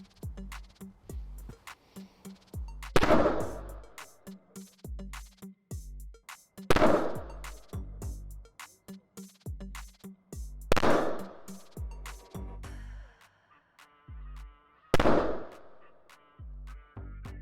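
A Czech Bren 2 automatic rifle fires at armor plates in a test. Four loud, sharp single shots ring out about four seconds apart, each followed by a short echo.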